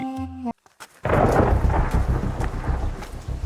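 Heavy rain with thunder, a brief tonal sound and near-silence giving way after about a second to a loud, continuous roar of downpour and rumbling thunder, with no voices.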